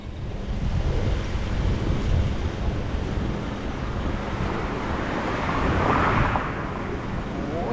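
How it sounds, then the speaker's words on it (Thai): Strong wind blows across a canal-side fishing spot, a steady, loud roar of gusts buffeting the microphone with no pauses for the full length. "ลมแรงมากครับนะฮะวันนี้"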